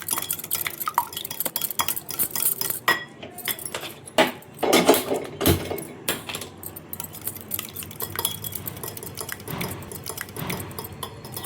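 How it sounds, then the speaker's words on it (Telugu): Three eggs beaten in a bowl for chicken fried rice: rapid, irregular clinks and taps of a utensil against the bowl, close and fairly loud, with brief pauses between bursts of whisking. "3 ఎగ్స్ అయితే తీసుకున్నాం. ఇవైతే మనం బాగా బీట్ చేసుకోవాల్సి ఉంటుంది."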